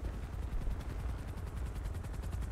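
A helicopter in a video game, heard as a loud, continuous thudding rotor beat with a dense low rumble throughout.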